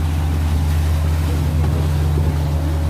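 Speedboat carrying nine passengers across the sea toward Ross Island, its engine a loud, steady low drone with constant water and wind rush throughout.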